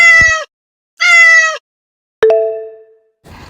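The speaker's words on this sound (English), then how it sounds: "This is cat." Two short, even meows sound a moment apart, followed by a bright chime that rings out and fades.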